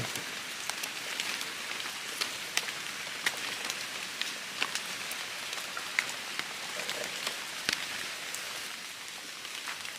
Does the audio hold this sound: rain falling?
yes